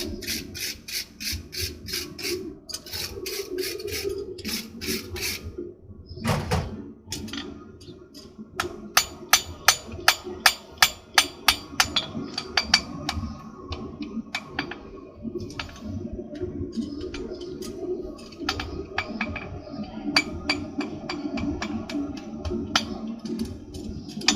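A farrier hammers a horseshoe on an anvil while shaping it, sharp ringing metallic strikes in quick bursts and runs, some spaced and some rapid, over low background rumble.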